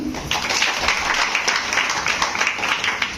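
Applause from a distributor meeting audience in Patna, a dense steady wash of many hands clapping at moderate loudness for about three seconds, with no clear voices.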